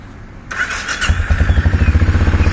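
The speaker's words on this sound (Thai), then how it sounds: "1 สูบลูกโต400ซีซีมาฟังเสียงเครื่องยนต์ครับผม" A 2020 Benelli Imperiale 400 single-cylinder, 400 cc motorcycle cranks briefly with a starter whir, then fires and settles into a loud, close, steady thumping idle pulse.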